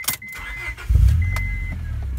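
A 2001 Honda Prelude SH engine breathing through a newly installed Yonaka full catback exhaust, a loud, deep steady drone that swells after a brief start and holds close and continuous.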